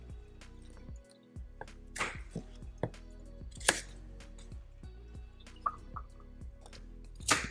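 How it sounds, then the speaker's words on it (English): A knife chops carrots on a cutting board with irregular, close, crisp knocks, some quick runs of cuts and scattered single strikes, fairly quiet with faint background hum and no talking. "I'll start with the carrots. I'll cut off the ends."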